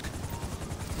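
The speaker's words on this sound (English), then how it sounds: "Helicopters here." A helicopter in the GTA V video game gives a brief, steady, pulsing rotor drone, fairly faint and continuous, with no speech.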